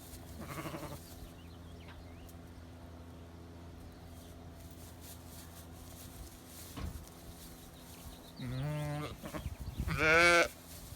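Sheep bleating in a paddock on a dairy farm, a brief call near the start, then a louder run of harmonic bleats toward the end over a quiet outdoor background.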